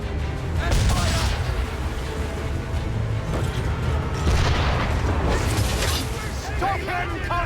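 Ship cannons boom in a naval battle in Assassin's Creed 3, heavy low blasts rolling under constant sea and battle noise, with shouted voices heard throughout.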